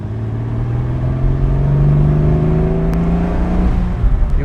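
A 1963 Jaguar Mark II 3.8 with a four-speed accelerates along a farm road, its engine note rising smoothly and steadily from inside the car, loud and continuous with no speech.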